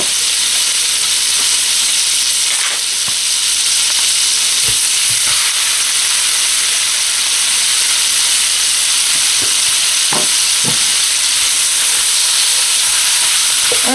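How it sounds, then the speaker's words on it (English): Beef hitting a screaming hot buttered pan, searing with a loud, continuous close-up sizzle and hiss, broken by a few stirring scrapes, with no talking over it. "this pan is screaming hot. I'm going to go ahead and add my beef into it"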